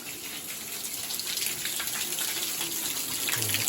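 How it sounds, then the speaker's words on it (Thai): Water gushes steadily from the pipe of a solar-powered borehole pump, a continuous close splashing rush with no pauses. "น้ำไหล"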